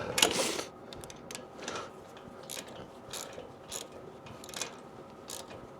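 A ratchet tightening bolts on a Can-Am Ryker build, heard as faint, quick clicking bursts repeating at irregular intervals, close by, with a slightly louder rattle at the start.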